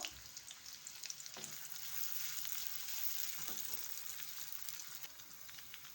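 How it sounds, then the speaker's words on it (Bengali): Chopped onion fries in oil in a wok with a steady, bright sizzle and crackle. Occasional soft stirring scrapes sound close by, no one speaks, and the sizzle stays constant throughout. "এবার আমি দিয়ে দেবো একটা কুচো পেঁয়াজ। পেঁয়াজটাকে ভালো করে নেড়ে চেড়ে একটু লাল করে নেব।"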